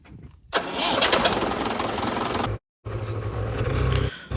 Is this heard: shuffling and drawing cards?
no